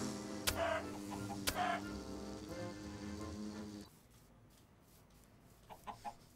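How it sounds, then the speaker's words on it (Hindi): A chicken in the video game Minecraft stung to death by bees, with repeated short clucking squawks over a steady game background hum, then a few faint clucks after a drop in level. "Chicken was stung to death."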